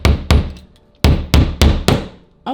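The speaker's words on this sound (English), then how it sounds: "in the instructions here, it says I need to hammer these in" Sharp, loud hammer blows drive wall plugs into a thin hollow office wall, six hard thwacks in two uneven bursts with short ringing decays and brief pauses between strikes.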